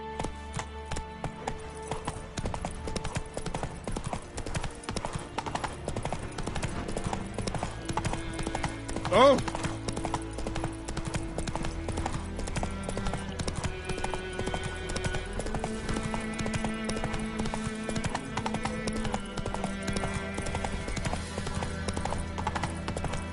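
Roach the horse in The Witcher 3 makes steady, rhythmic hoofbeats that continue throughout at close range, under music and occasional talk.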